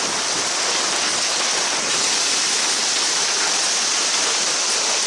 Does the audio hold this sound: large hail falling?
yes